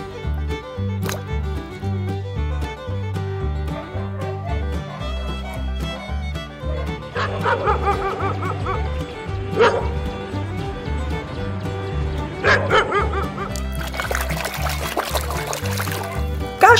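A dog barks and yips repeatedly over steady background music, with short sharp barks and a few whimpering sounds scattered throughout.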